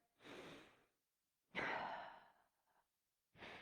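A person exhales during a seated yoga twist in a studio class: two long, soft, airy breaths with a short pause between, close and quiet, then a third breath starts at the end.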